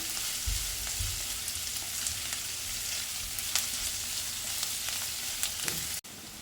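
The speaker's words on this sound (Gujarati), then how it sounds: "મીડિયમ ટુ હાઈ ફ્લેમ પર જ એને સાતડવાના છે" Vegetables for a veg macaroni pasta sauté over a medium-high flame, giving a constant, fairly quiet frying hiss with scattered crackles and a few low thumps. The sound drops sharply just before the end.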